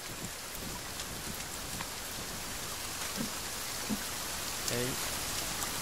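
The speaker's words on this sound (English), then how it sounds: "It rains." Steady rain falling in the survival video game The Forest, a continuous hiss of drops with a few faint bumps and knocks over it.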